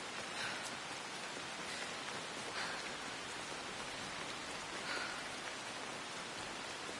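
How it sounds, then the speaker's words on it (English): Steady rain falls in the video game Assassin's Creed Shadows, a dense, even hiss of drops pattering on surfaces that holds constant throughout with no voices over it. "Hey, look, more rain."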